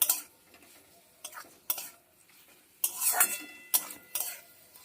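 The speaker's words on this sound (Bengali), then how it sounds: "মশলার সঙ্গে পটলের বীজটাকে ভালো করে কষিয়ে নেবো" Pointed gourd seeds being stirred with spices in a pan: a utensil scrapes and clinks against the metal in irregular bursts over a faint underlying sizzle, close and fairly clear, with no talking.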